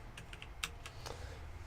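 Keys click on a Logitech G910 Orion Spectrum mechanical keyboard with Romer-G switches, about seven light, separate keystrokes in an uneven rhythm, fairly faint and close.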